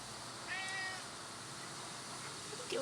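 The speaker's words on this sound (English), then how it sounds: "Oh, George cat." A cat meows once, a short rising call, outdoors in a garden, followed by a faint second mew near the end against quiet background ambience.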